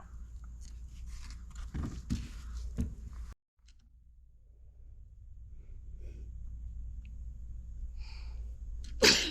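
A single abrupt sneeze bursts out near the close, loud and close by, following a stretch of low mechanical rumble with scattered shuffling and handling noises around a 1956 Ford Fairlane being worked on.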